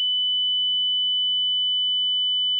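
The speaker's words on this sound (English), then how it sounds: "3 kilohertz," A steady 3 kHz sine wave test tone, a pure continuous whistle from an electronic signal source, holding at constant loudness alone for the whole stretch before a brief change at the very end.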